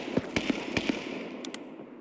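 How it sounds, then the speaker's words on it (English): Gunfire from a scout in a loot-room shooter game, several sharp, fairly quiet cracks spaced irregularly over a couple of seconds against low background noise. "That's me getting shot at by a scout."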